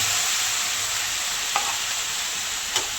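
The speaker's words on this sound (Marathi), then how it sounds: "हे परतून झालं आता आपण त्याच्यामध्ये घेतलेली मेथीची भाजी टाकूया" Fenugreek greens tossed into a hot pan and frying, with a steady bright sizzle throughout and two brief stirring scrapes, close and fairly quiet with no talking.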